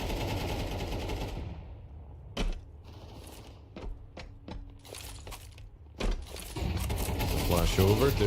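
Gunfire from AK and MP9 weapons in a Counter-Strike match comes as several sharp, separate shots and short bursts. They sit over a quieter stretch, with busier game noise and a commentator's talk at the start and end.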